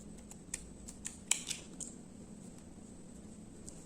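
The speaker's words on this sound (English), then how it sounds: "I'm going to chain 1 and cut off the yarn" Scissors snip yarn at the end of a crochet round, a few soft, close cutting clicks clustered around the first two seconds, faint overall against a quiet room hum, with no speech.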